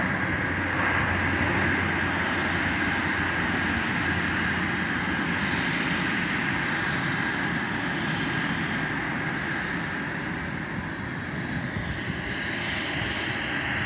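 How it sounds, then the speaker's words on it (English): A jet airliner's engines roar steadily during takeoff at Luxembourg's international airport, a broad, loud wash of noise that holds level throughout, rising slightly toward the end. "I see airplane take off."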